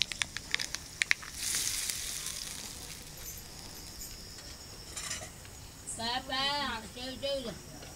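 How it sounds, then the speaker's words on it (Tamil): Spluttered mustard seed tempering poured into Indian chutney, heard as a soft hiss of sizzling oil that fades, followed by a few words of nearby speech. "கடுகு பொரிஞ்சிடுச்சு இப்போ இதில் கொட்டிடலாம்"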